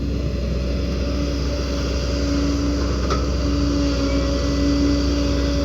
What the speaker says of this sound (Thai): รถไถปรับเอาครับ จะได้ไม่ต้องกินเวลาเยอะ